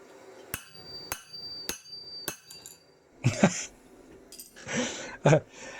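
A claw hammer strikes a forged test piece on a modified cast anvil, giving four sharp ringing blows in a steady rhythm, followed by bursts of nearby speech.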